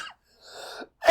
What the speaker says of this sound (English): Quit making me cough, man.